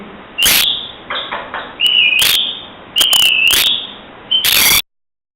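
A man imitates a parrot's call with his voice, giving several sharp, loud, whistled squawks in quick succession, some with a rising or falling bend, followed by silence.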